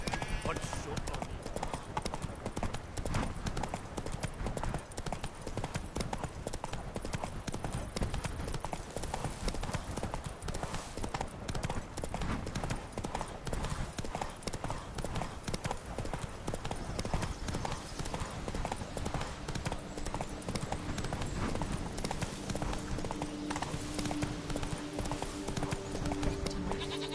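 Roach, a horse in The Witcher 3 game, clip-clops at a steady trotting rhythm throughout, continuous close hoofbeats mixed with game sound and occasional voices.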